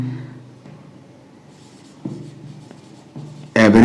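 Scratchy strokes of writing on a board during a physics lesson on motion and average speed, in short bursts with pauses, close to the microphone and ending in a louder knock.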